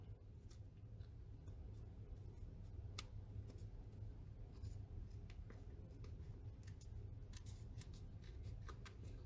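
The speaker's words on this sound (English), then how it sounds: "I'm going to bring my scissors in. And I'm just going to cut off all the excess." Scissors cutting off excess paper in a paper craft project, a series of quiet, crisp snips at an irregular pace, close but faint over a low background hum, with no talking.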